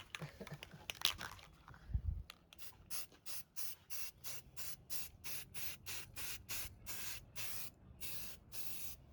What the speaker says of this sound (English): we're going to spray a different color on it now, a little bit of the brown.